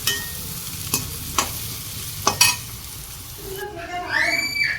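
Boiled potato and fig fry together in a pan, a soft steady sizzle broken by a few sharp scrapes of a stirring spoon, with brief faint chatter and a higher clatter near the end.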